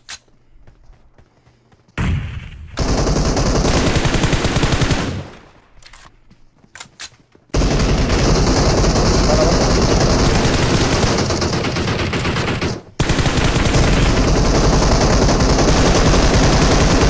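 Gunfire in the video game PUBG Mobile, with long, loud bursts of rapid automatic shots broken by short gaps of near-silence and quieter stretches.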